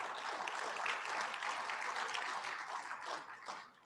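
An audience at a tech awards ceremony applauds an award winner, a dense, sustained wash of clapping that fades slightly toward the end.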